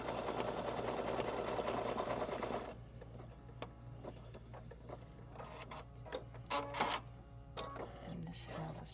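An embroidery machine stitching out a design, including satin stitching, runs as a loud steady mechanical whir for about three seconds, then drops to a quieter hum with scattered clicks and taps, while voices talk faintly nearby.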